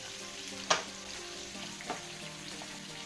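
Two sliced onions sautéing in coconut oil for a quail roast, a soft continuous sizzle broken by a couple of sharp spatula scrapes against the pan.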